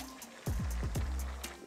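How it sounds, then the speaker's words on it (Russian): Cold water poured into a pot of pilaf with carrots, chickpeas, barberries and cumin, heard as a close, steady splashing pour with a few sloshing surges, no voices. "И теперь заливаю холодную воду."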